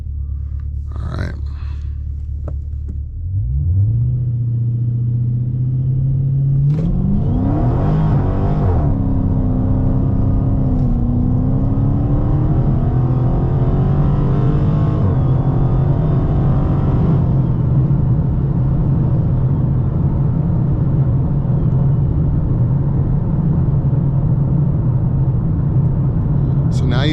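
A Dodge Charger 392 Scat Pack launches in sport mode with launch control, its V8 rumbling at idle before rising in a loud, sustained roar of hard acceleration that holds for many seconds, with speech faintly present.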